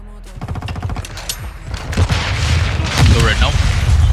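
Teammates fire guns in Call of Duty: Modern Warfare 2 (2022): rapid, close bursts of automatic fire and booming shots crackle without a break, with players talking over the gunfire.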